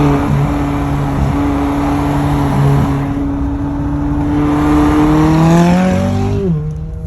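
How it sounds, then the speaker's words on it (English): A loud car engine drones close by, holding a steady pitch then revving up and dropping sharply near the end, with a strong tonal exhaust note. "Matt's car is really loud."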